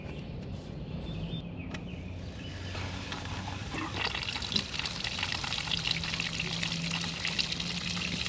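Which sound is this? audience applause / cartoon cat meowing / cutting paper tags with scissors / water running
water running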